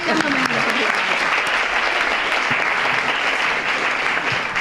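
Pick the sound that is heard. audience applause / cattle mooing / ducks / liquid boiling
audience applause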